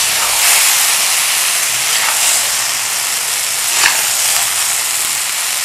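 Fried okra with tomatoes hisses and sizzles steadily in a hot pan over a raised flame, a continuous close steam-like hiss with a few faint stirring knocks, no voice.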